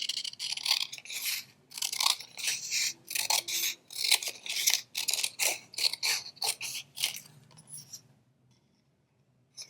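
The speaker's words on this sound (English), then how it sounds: "You can cut a bunch of these out and then roll them." Scissors snip through paper strips being cut for rolled paper beads: a rhythmic run of close, crisp crunching cuts, about a dozen in quick succession, before the snipping stops and it falls quiet.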